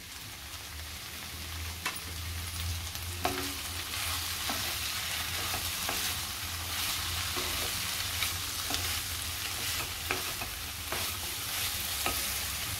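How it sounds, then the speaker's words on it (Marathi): Capsicum being stirred into a mushroom masala with tomato, a continuous sizzle with repeated scraping and tapping of a utensil against the pan, close and steady, no talking. "चांगलं मिक्स करून परत झाकण ठेवायचं आहे"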